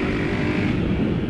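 A small motorcycle engine runs nearby with a loud, steady, rough rumble, caught in one short burst.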